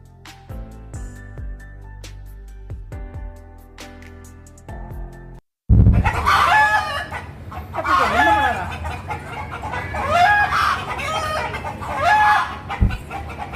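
Chickens and roosters at a Hindu temple, the Kapaleeswarar temple in Tamil Nadu, clucking and crowing in repeated close calls after a brief cut, over busy background noise and some voices.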